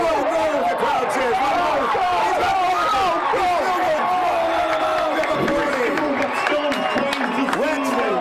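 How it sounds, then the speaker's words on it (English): Crowd roaring at a high school football game (Hampshire) during a long kick return, a dense, sustained wash of cheering and voices that stays loud and steady throughout. "You could hear the crowd."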